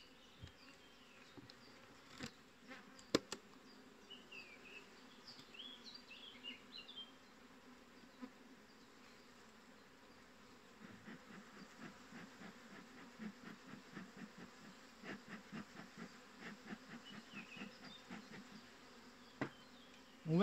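Honeybees hum softly and continuously inside an opened hive body. The faint steady buzz stays in the background, with occasional louder individual bees passing close.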